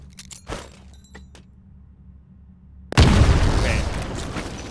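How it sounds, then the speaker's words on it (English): A grenade explodes in the video game Titanfall, a sudden loud boom with a long rumbling, crackling tail, preceded by light clicks and metallic handling noises. "Throw a grenade into each of the windows."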